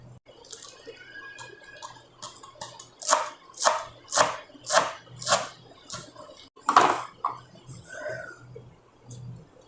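A knife chops mint leaves finely on a board, a steady run of about seven close, crisp strokes with a few scattered cuts before and after, prepared for Hyderabadi chicken biryani.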